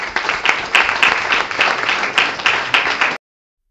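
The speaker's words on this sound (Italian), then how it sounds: "Questo applauso è per Domenico" An audience at a panel on Italy's economy applauds a speaker, a steady round of many clapping hands with a few sharp close claps, cutting off abruptly.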